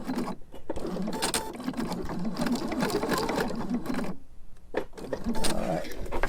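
A sewing machine stitches binding around the corner of a quilt, a close, rapid mechanical chatter that runs in bursts with short pauses as the fabric is turned, while a voice speaks quietly over it.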